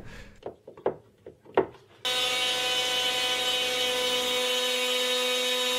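CNC router spindle cutting a shallow 0.4 mm area clear into the center of a board, starting abruptly after a few faint knocks and then holding a loud, steady whine with a broad hiss of cutting.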